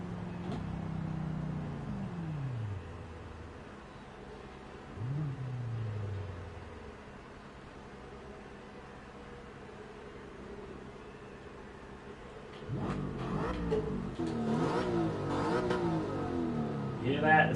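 A race car engine in Gran Turismo 7 blips and revs on downshifts, two quick falling sweeps early on, then a louder rising roar of acceleration near the end, moderately faint and steady in between.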